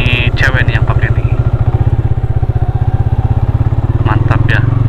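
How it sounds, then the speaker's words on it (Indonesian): A motorcycle rides ahead on a dirt off-road access track beside a railway line, its engine chugging loudly in a steady, pulsing putter that stays close and continuous. A brief voice cuts in near the start and again near the end. "Tuh depan ada yang naik motor"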